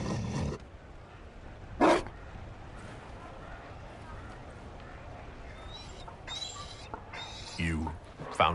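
Mabari war dog barking in a fantasy role-playing video game, a few short barks spaced apart at moderate distance over quiet ambient background, with other game sounds between.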